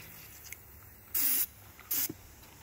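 Two short bursts of fine water spray hiss loudly from an irrigation microjet on a drip line in raised vegetable beds, each about a third of a second, against a faint background murmur.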